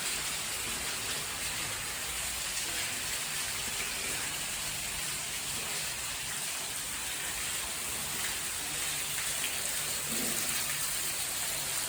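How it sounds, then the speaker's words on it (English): Steady, broadband rush of falling water from the waterfall inside the Tropical Ravine glasshouse at Botanic Gardens, Belfast, a continuous even hiss with no pauses and no voices. "There you can see waterfall."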